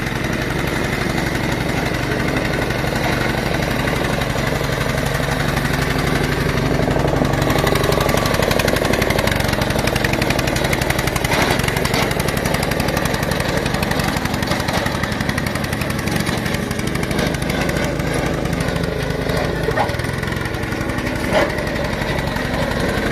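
A multi-purpose walk-behind machine used as a snow sweeper, dozer blade and tiller has its small engine running steadily for a long stretch, a close, buzzing drone with no talking.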